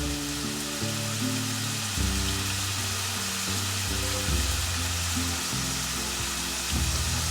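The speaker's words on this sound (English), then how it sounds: "It's frying quite nicely right here." Ground meat for a ragu sauce sizzles in a pan, a steady broad crackling hiss heard up close, with music playing underneath.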